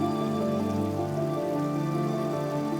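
Steady, dense rain pattering on the surface of a stream in Peninsular Malaysia, a continuous close wash of droplets with no pauses and no voices.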